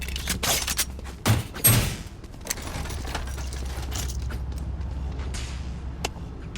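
Weapon reload in the video game Valorant: a quick cluster of metallic clacks and mechanical clicks near the start, followed by quieter game ambience and small rattles.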